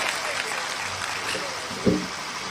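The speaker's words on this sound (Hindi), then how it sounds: "लगातार तालियां बजती रहनी चाहिए," Audience at a Hindi poetry recital (kavi sammelan) claps continuously, with crowd voices mixed in and a brief thump near the end.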